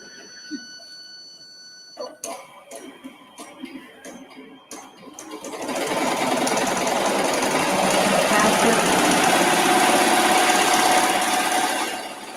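A Bernina E16 Plus embroidery machine traces a design and then starts stitching it out, settling into a steady, rapid mechanical whirr that runs loud and close for several seconds after some scattered clicks and setup noises.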